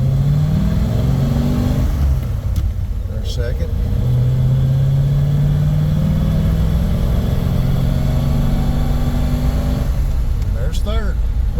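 A 1940 Ford Sedan Deluxe drives along with a loud, continuous engine drone that rises in pitch as it accelerates through the gears, with cabin noise and occasional squeaks throughout.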